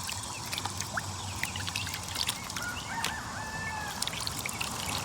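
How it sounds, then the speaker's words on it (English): Water trickles and splashes steadily from the tubing of a small DIY solar-powered pump for an outdoor water feature, a continuous close pouring sound with chickens clucking in the background. "the water starts flowing."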